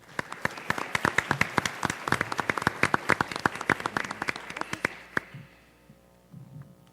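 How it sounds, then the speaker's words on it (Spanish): Sparse audience applause at an academic forum panel, with distinct individual claps from a small group ringing out for about five seconds before stopping, leaving quiet room noise. "para quien solicito un caluroso aplauso"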